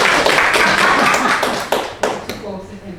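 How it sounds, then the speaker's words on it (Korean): An audience at a lecture on stock investing claps in a short burst that fades into a few scattered claps. "박수 한번 쳐주세요"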